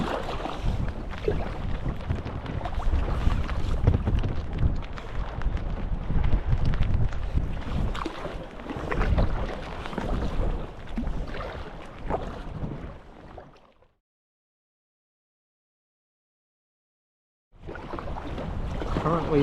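Boat riding ocean swells off the Scottish wilderness coast in wind, with loud continuous rushing wind and water noise buffeting the microphone, broken by a few seconds of silence before the roar resumes.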